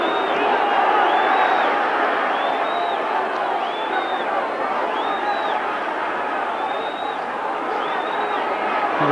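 A big boxing crowd roars and cheers continuously at the 1989 Roberto Duran versus Iran Barkley fight, a dense, loud wall of voices with scattered whistles and whoops rising over it.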